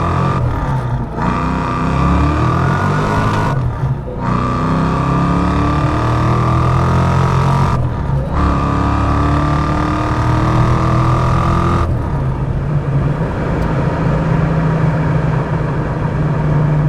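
A procharged 5.0 V8 in a 1990 Ford Mustang GT with a five-speed roars loudly up through the gears, its pitch climbing steadily between short gaps at each shift, close and continuous with no talk.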